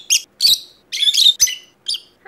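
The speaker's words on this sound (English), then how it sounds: "You're a lovely bird." A pet lovebird gives a series of sharp, bright chirps in quick separate bursts, loud and close, with short silences between calls and no talk.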